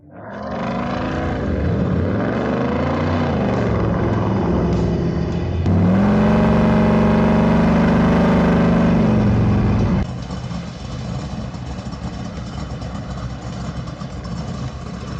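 Big supercharged custom car engine, loud and close, with rising and falling revs, a steadier high-pitched whining surge partway through, then settling into a rougher, quieter running note.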